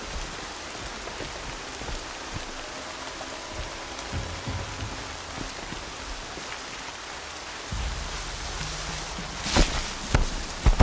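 Steady rain patters across the landscape of the video game Horizon Zero Dawn, an even hiss of falling drops with a few louder splashes and thumps toward the end.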